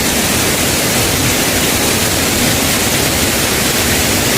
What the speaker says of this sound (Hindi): और आगे एक झरना ये है